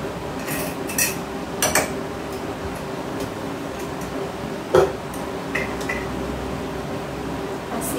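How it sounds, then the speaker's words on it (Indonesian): A spoon stirs ground coriander into other ingredients in a pot while cooking lontong sayur, giving scattered light metallic clinks and scrapes over a steady background hum. "diaduk-aduk dulu biar kecampur"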